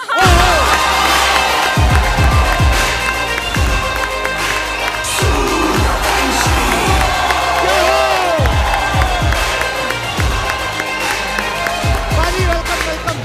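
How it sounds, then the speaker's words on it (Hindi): A comedy talk show studio audience applauds and cheers loudly for an arriving Bollywood star, with dense clapping, shouts and whoops under music, steady and close throughout. "जोरदार तालियां अक्षय पाजी के लिए।"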